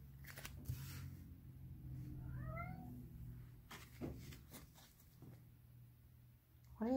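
A pet cat meows in a few short rising calls near the start and again at the end, fairly close, over a low steady background hum, with a brief human voice in between.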